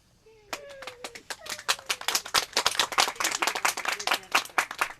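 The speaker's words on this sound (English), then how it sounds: "That applause just happens wherever I go." Applause sound effect played during a Zoom call for an eighth grade sendoff, a burst of many clapping hands that builds quickly and stays dense and steady, with a faint voice briefly at the start.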